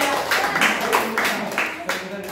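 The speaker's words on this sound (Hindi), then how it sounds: "सबके लिए तालियां।" Children and adults clap together at an Independence Day celebration in Pisangan, a short burst of scattered, uneven handclaps close by, with voices talking over them.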